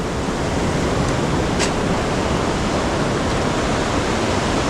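Ocean waves break steadily on a Nicaraguan beach at high tide, a dense continuous roar of surf filling the whole stretch loudly with no pauses and no voices.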